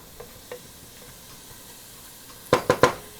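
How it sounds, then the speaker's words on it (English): Garlic and onion saute in a pan for a vegan African pea stew, with a soft sizzle under a few light utensil taps, then a quick run of sharper scraping stirs near the end. "so we be sauteing garlic and onion"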